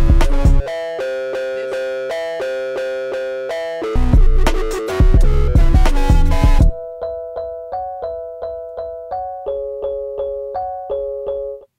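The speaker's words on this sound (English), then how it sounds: "It sounds like a guitar, sort of like distorted guitar." A stock sample on a Teenage Engineering EP-133 K.O. II sampler, played with distortion so it sounds like a distorted guitar, plays a loud, buzzy melodic riff, then gives way to cleaner, plucked repeating notes.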